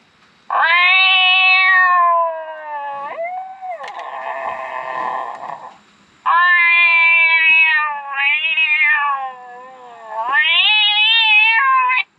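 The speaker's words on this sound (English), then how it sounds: "Here's a barn cat." A barn cat call played through a Foxpro Patriot electronic game call, giving loud, drawn-out synthetic meows and yowls in several long bursts separated by brief pauses, clear and close with no talking.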